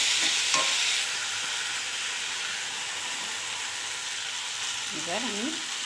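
Fish curry masala sautéing in a pan, with capsicum still to be added: a steady, loud sizzle and hiss runs throughout, a sharp clink near the start and a brief voice near the end.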